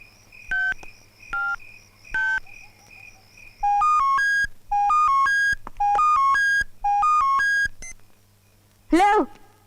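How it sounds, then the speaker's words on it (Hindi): A telephone number is dialed on a keypad, with short tonal beeps in quick groups against a faint background hum, followed by one brief rising electronic chirp. "उस दिन जब मैंने जेसिका को फोन किया,"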